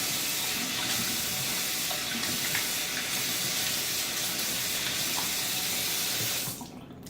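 Tap water runs steadily into a sink for a shaving rinse, a close, even rushing stream that stops abruptly near the end, leaving a quiet room tone.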